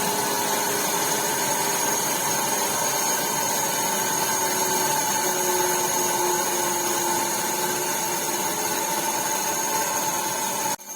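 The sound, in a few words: DC shunt motor stopping after plugging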